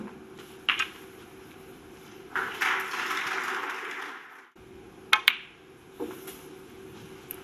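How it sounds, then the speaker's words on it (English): Artificial crowd applause plays at a snooker match, a faint short burst of clapping sounding briefly between sharp clicks of the balls. "I've noticed now there's different grades, isn't there, of fake applause?"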